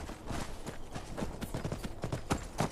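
Horse hooves clip-clop steadily on the ground in the video game Skyrim, a brisk, fairly close rhythm of repeated hoofbeats with no talk over them.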